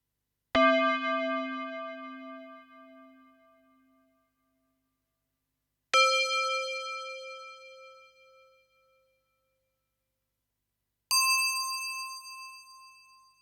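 Three separate bell strikes from a Yamaha DX7 FM synthesizer tubular bells patch, each a metallic clang at a higher pitch than the last, ringing out and fading to silence before the next one.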